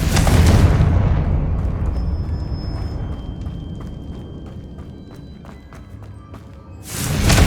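A Confringo fire spell blasts in Hogwarts Legacy, a loud booming explosion that rolls out and slowly decays over several seconds, with a second blast erupting at the end.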